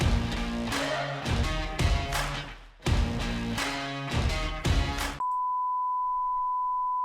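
Phone keypad buttons being pushed, a rapid run of loud electronic beeps in bursts with short gaps, then ending in a single sustained steady tone, close and with no talking over it.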